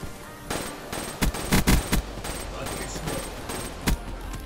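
Teammates' gunfire in a video game crackles in scattered bursts and single shots at middling distance, with several louder close reports and faint talk underneath.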